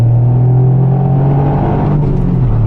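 Toyota GR Yaris Sebastien Ogier Limited Edition engine producing a loud, steady low rumble heard from close by, holding nearly constant pitch with only slight swelling and no voices over it.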